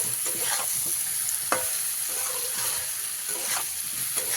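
Pumpkin pieces and spices, salted early, stirred together in a pan for a vegetarian pumpkin curry with five-spice seasoning; a steady sizzle runs throughout with scraping stirs and one sharper utensil knock, no voices.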